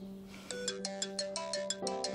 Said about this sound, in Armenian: քո հեռախոսին պատասխանիր